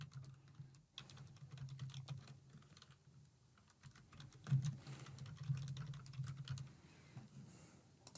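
Fingers tap an email address out on a computer keyboard in quick, irregular bursts of soft clicks, close and quiet over a faint low hum.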